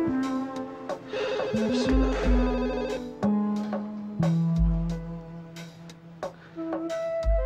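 A telephone rings early in the morning, a repeating electronic ringtone of bright melodic tones running continuously and fairly loud, with a low sustained drone beneath.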